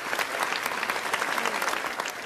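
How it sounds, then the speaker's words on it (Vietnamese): Audience and judges at a singing competition applaud a young contestant, a dense, even round of clapping that sustains at full strength for the whole moment. "Con đã thấy được các cô chú vỗ tay cho con rất nhiều."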